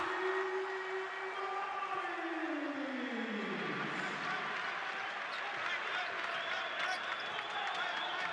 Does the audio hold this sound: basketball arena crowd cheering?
yes